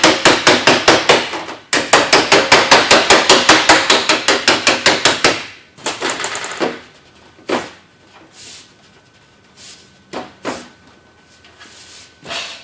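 A hammer pounds a metal standing seam roof panel in a fast, loud, ringing series of close blows, then trails off into scattered lighter knocks and clatters.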